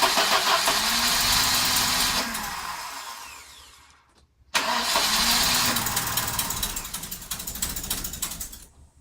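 A scrapyard Volvo engine running on bad gasoline cranks with a fast whirring starter, pauses, then cranks again and catches, ending in a steady idle; loud and close, with no talking.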